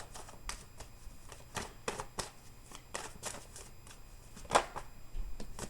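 Tarot cards shuffled and pulled by hand, a string of soft, quick riffling slaps and flicks at close range in a quiet room, with one sharper snap near the end.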